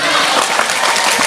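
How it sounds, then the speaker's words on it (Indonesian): Loud, dense applause from a village crowd at a religious gathering, a continuous wash of clapping heard close and filling the whole brief moment. "tepuk tangan untuk Njiken."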